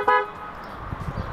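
A BMW F90 M5 horn, triggered remotely via satellite, gives one short toot, followed by quiet background noise and faint knocks.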